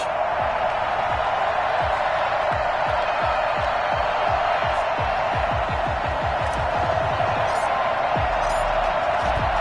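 Stadium crowd before a New York Jets vs Carolina Panthers NFL game in Charlotte, a steady broad roar of many voices filling the air, continuous and moderately loud throughout.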